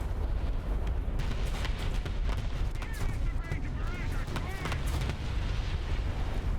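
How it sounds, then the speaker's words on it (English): An artillery barrage rumbles in the tank combat game War Thunder, a dense, continuous roar of overlapping blasts and booms with sharper cracks scattered through it. "The enemy is preparing for artillery barrage."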